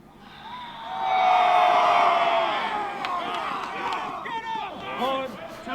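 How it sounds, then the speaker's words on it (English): A crowd of army recruits at basic training cheers and shouts together in a loud, sustained roar that swells and holds, with overlapping yells and whoops carrying through. "They're cheering me."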